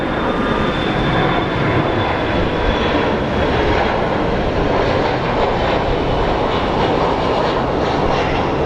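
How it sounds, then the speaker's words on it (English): A Horizon Air Embraer 175 airliner at Phoenix Sky Harbor airport produces a loud, steady jet engine roar with broadband rushing noise, sustained and close throughout. "Alaskan Air operated by Horizon, Embraer 175 long range LR"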